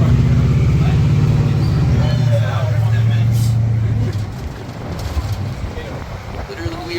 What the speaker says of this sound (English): Literally, we are being pulled by a truck.